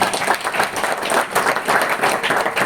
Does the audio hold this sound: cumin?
no